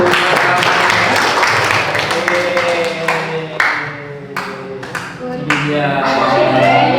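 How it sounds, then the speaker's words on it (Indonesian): Students in a classroom clap together for a short burst, with voices and chatter mixed through the applause as it fades out. "Oke, tepuk tangan dulu."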